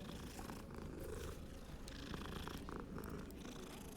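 A cat purrs steadily while being petted in the Hogwarts Legacy video game, a soft, continuous, close rumbling purr with no talking.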